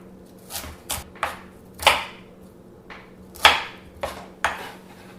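A knife chops celery stalks on a cutting board in separate crisp strikes, about nine irregular cuts with short pauses between them, close and clear, and no voices.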